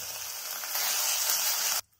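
Onion and garlic sizzling in a pan, a dense hiss that swells slightly and then cuts off abruptly after under two seconds, close with no voices.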